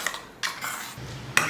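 A spoon scrapes thick chutney out of a mixer jar into a bowl, three short metallic scrapes and clinks with quiet pauses between them.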